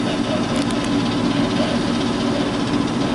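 A sailboat's inboard engine with a slipping transmission runs nearby, giving a steady, loud, low droning rumble with no change in pace.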